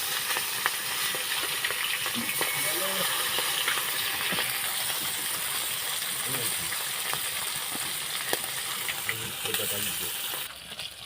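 Fish frying steadily in hot oil in a pan at a home stove, a continuous bright sizzle with a few soft clinks and scrapes as the pieces are turned over.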